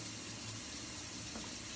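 Water pours into a bowl of Haitian-style marinade, a brief steady faint gush with no talk over it.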